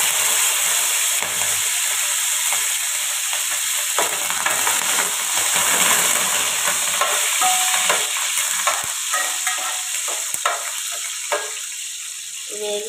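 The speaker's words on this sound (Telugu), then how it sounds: "దోరగా వేసుకున్న తర్వాత కొంచెం కరేపాకు వేస్తాను." Curry leaves crackling in hot oil for an Andhra-style fish curry, a steady close sizzle and hiss with small pops running throughout, no voices.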